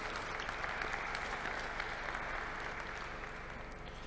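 Audience at an economic conference applauding the panelists, an even, dense patter of clapping heard from a distance, steady for a few seconds and slightly fading.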